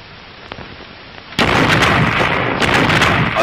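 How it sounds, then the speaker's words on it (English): Synchronized artillery barrage from a full regiment of guns, a sudden loud, dense roar of overlapping blasts that follows a quieter stretch of low rumble and lasts to the end. "A synchronized barrage"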